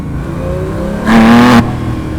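A Porsche 911R engine revs up sharply for about half a second, a rising mechanical whine over steady road and engine noise.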